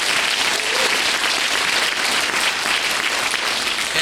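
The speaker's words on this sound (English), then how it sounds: "A round of applause for John," Dense, sustained audience applause at a spring school concert with concert and jazz bands, many hands clapping evenly and loudly throughout.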